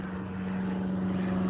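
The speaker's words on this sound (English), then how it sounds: "every time I come out, there's planes flying over now, small planes" A small propeller plane drones low overhead with a steady, loud engine tone and no voices.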